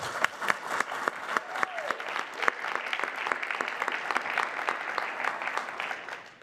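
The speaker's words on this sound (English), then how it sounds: "Can we please give a round of applause?" A round of applause from the audience at a citizens' climate forum: steady, fairly close clapping from a modest crowd with distinct individual claps, holding level before tapering at the end.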